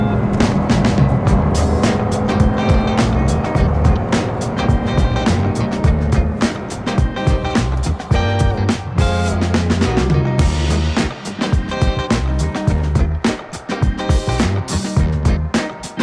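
Car driving hot laps on the Nordschleife track, a loud continuous engine roar with shifting pitch and rumble heard close throughout.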